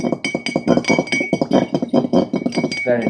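A spoon clinks rapidly against the sides of a glass of water, a busy run of bright, close taps as salt and sugar are stirred in.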